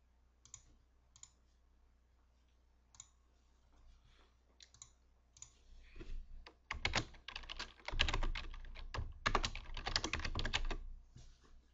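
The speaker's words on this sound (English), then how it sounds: "If I put in here mail to" Someone types a mailto address on a computer keyboard, starting with sparse isolated key clicks and building into a dense, close run of rapid keystrokes.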